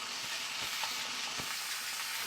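Beef short ribs brown in a hot pan, giving a dense continuous sizzle with a few soft crackles and pops, close and steady for a couple of seconds.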